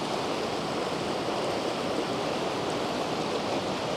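A South Wales waterfall gives a steady, dense broadband roar of falling water, loud and close. It stays unbroken from start to finish, with no voices.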